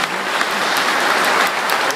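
Applause for the parents at a wedding, dense clapping from the guests that sounds close and steady for a couple of seconds, with no voices over it.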